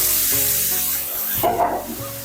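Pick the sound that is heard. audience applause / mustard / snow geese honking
mustard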